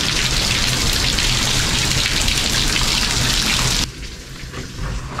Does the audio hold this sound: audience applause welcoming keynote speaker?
no